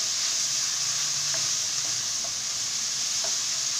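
Carrots frying in oil in a pan, just after minced meat was cooked in it, give a steady close sizzle with a few light stirring scrapes and clinks over about four seconds, with no voices.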